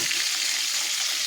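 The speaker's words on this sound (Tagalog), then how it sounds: "Pinaprito na. Ang kintab ng isda." Fresh-caught fish sizzling in hot oil in a pan, a steady, bright crackle of frying that fills the whole moment without talk.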